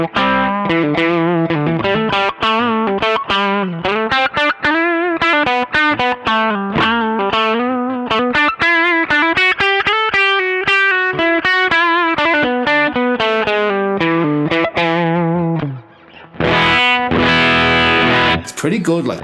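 Electric guitar played through a Nobels ODR-1 overdrive pedal at low gain, giving a mild, sustaining overdriven tone over a run of steady, ringing notes, then a brief pause and a harsher strummed burst at the end.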